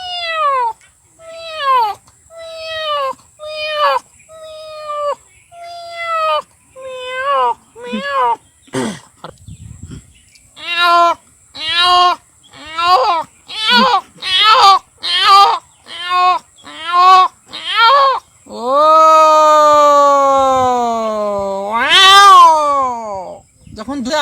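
A man vocally imitates a cat meowing near food, giving a long run of short, evenly spaced meows that grow quicker and more insistent before ending in one drawn-out, wailing cry, close and loud.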